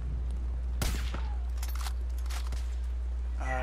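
An anti-aircraft turret fires in Far Cry 5: a few sharp, close bursts of gunfire cut through a steady low game rumble.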